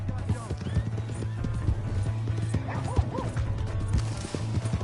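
Horse hooves clatter rapidly amid a busy video game scene, with a horse whinnying and a sharp crash partway through, under voices.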